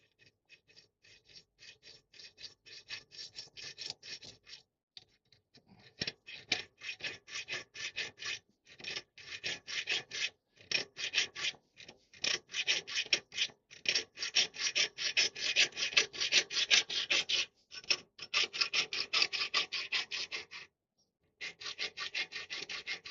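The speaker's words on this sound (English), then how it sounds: "with the hacksaw." Hacksaw cutting a piece of inlay material held in a workbench: close, rhythmic rasping strokes in fast runs, broken by a few short pauses, with no speech.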